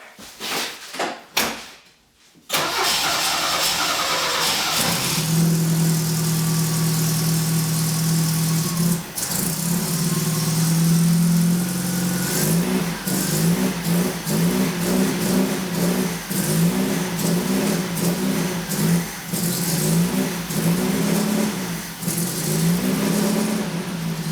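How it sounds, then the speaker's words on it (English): Saab Sonett engine after a jump start with carburettor work, cranking through a few short bursts before catching and running loudly, settling into a steady, slightly uneven idle with occasional revs and a clunk partway through. "Time to hook up the battery and see if it'll start on the tank gas again."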